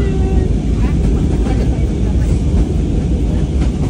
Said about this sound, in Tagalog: sobrang nakakatakot yung experience namin kasi ang lakas ng turbulence ng aeroplano